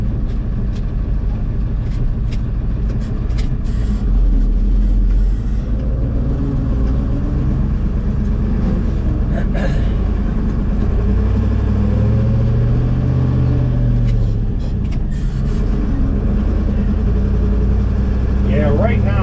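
Ford F600 truck with a two-speed rear end, loaded with corn and driving back from a fall field, its engine giving a steady low rumble that swells and eases throughout, with someone talking over it.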